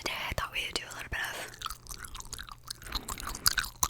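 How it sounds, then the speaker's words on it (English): Close-miked gum chewing for ASMR: soft wet smacks and clicks in an irregular rhythm, with quiet whispering in between. "of gum chewing"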